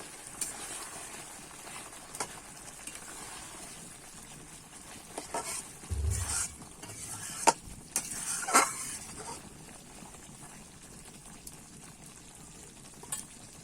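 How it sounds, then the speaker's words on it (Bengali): Bhetki fish with ghee and ground garam masala cooks in a pan, a soft steady sizzle broken by occasional scraping stirs and brief clatters of the spoon, with no voices. "এবার একটু আমি নেড়ে নেব"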